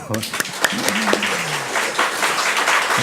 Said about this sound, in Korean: 박수 치고 싶죠? 박수 치세요.